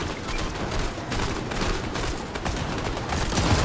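Dense, continuous automatic gunfire in a competitive video game match, a loud unbroken rattle of rapid shots layered over one another with no pauses.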